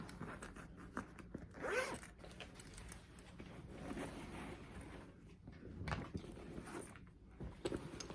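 A purse zipper is drawn open and closed several times, close by and fairly quiet, with a scattering of soft handling rustles between the pulls.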